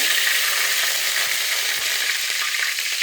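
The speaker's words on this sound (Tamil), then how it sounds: "வெந்தயம் நல்லா பொரிஞ்சதும் கருவேப்பிலை போட்டுக்கோங்க." Curry leaves dropped into hot oil with frying fenugreek seeds give a loud, steady, close sizzle and crackle running unbroken throughout, with no voices.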